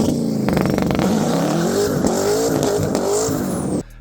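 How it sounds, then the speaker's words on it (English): A straight-piped, twin-turbo C6 Corvette with a custom 3-inch exhaust from Garrett turbos back roars loud and close, its engine note climbing and dipping through revs before cutting off abruptly. "I also did a custom exhaust on that car, and completely straight piped it from the Garrett turbos back"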